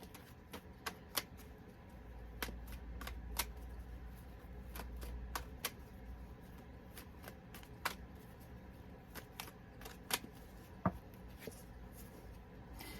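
Playing cards shuffled and snapped by hand, a string of sharp riffling clicks and flicks in irregular bursts, close and fairly quiet, with no talking.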